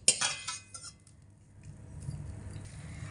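Fried five-spice seeds being scooped from the pan into a separate bowl, a few sharp metal clinks and scrapes at the start, then quiet faint kitchen rumble.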